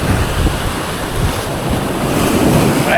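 A strong river current rushes past a fishing spot, making a loud, unbroken roar of churning water mixed with wind buffeting the microphone.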